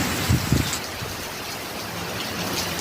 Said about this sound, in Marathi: आणि आजचा हा पाऊस चालू आहे, पाऊस वाढतो पाऊस थांबतो असं चालू आहे